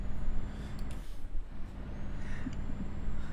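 Truck rumbling past in a truck-driving video game, a loud low engine drone with brief hisses and clunks, steady and close throughout.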